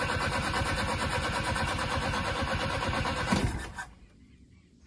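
An old Chevrolet Chevette's gasoline engine cranks and catches, roaring loudly and steadily for several seconds before dropping abruptly to a quieter idle, with a faint voice at the end.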